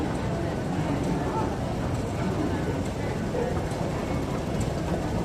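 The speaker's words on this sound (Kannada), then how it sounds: "ಇದು ಮೆಟ್ರೋ ಸ್ಟೇಷನ್" Steady, loud rumble of a train in the enclosed Central MTR station in Hong Kong, continuous throughout, with indistinct voices blended into the noise.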